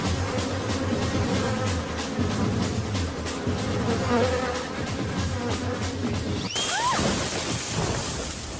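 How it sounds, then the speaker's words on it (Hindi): A honeybee buzzes in a steady, close drone over a dense movie soundtrack, which ends in sweeping synthetic tones. "ये मक्खी नहीं मधुमक्खी है।"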